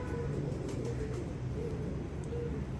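A pigeon coos in low, soft, repeated calls against a steady background hum, with no talking.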